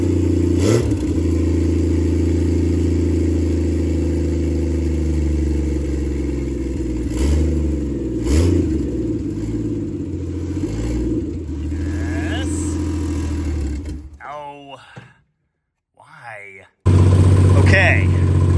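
A turbocharged Slant Six engine runs loudly close by, its steady drone rising in several revs before dropping away briefly near the end and then returning.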